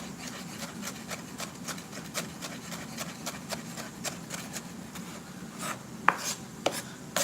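Onions being finely chopped with a knife on a board, a steady run of quick, close, light taps at an even rhythm, with a couple of sharper knocks near the end and no talk.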